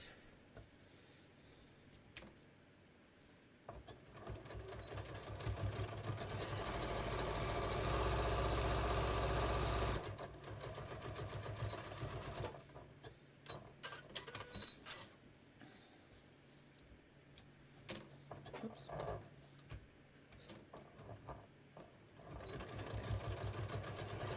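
A sewing machine stitches quilting lines across a printed-grid beach tote pocket, running in fast bursts with a sustained stretch of rapid needle chatter and pauses between runs.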